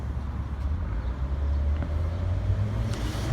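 Cars driving past on a road make a low, steady traffic rumble, with a slightly louder passing swell toward the end and no talking.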